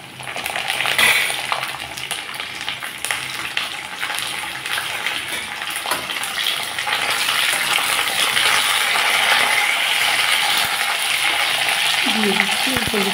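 Flat beans tossed in with potatoes already browned in hot oil, a loud close sizzle that surges and then settles into a steady fry, with a few metallic clinks near the end.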